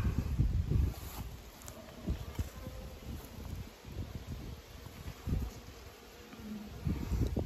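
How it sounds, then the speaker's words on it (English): Honey bees in a small nuc box made from a split hum in a soft, wavering drone, close and fairly quiet, with brief louder swells as individual bees pass near. "Decent number of bees in there."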